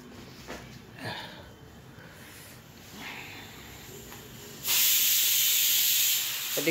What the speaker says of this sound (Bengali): এদিকে প্রেশার কুকারে আমি আলু সিদ্ধ বসিয়েছি।